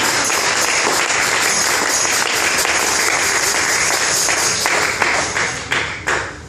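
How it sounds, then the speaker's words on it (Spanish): A church congregation gives a strong round of applause during a worship service. The clapping is loud, dense and sustained, then thins into a few scattered claps near the end. "Dale un fuerte aplauso"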